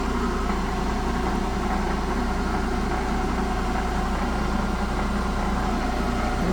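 A metal lathe turns while refacing a big block Chevy valve, producing a continuous, steady mechanical hum with a low drone and a constant whirring texture, close and unchanging throughout.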